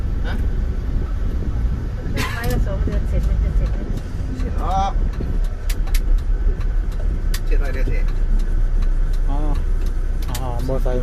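Heavy traffic of dump trucks hauling soil along a dirt road section of a four-lane road, engines rumbling loud and continuous, with clanks and rattles, while people talk nearby throughout.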